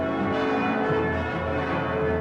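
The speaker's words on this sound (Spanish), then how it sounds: "El día amanece con el furioso repicar de las campanas" Church bells clang continuously in a dense, ringing wash, loud and sustained with overlapping tones and no voices.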